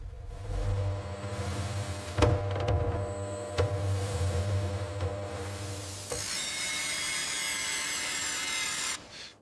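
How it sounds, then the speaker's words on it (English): Massive diamond-tipped saws spinning at extreme speed through a dense eco-ivory block in a factory, a loud steady mechanical whine with sharp knocks early on, shifting to a brighter high-pitched grinding screech before cutting off abruptly. "massive diamond-tipped saws, spinning at extreme speeds, slice through the dense material like butter"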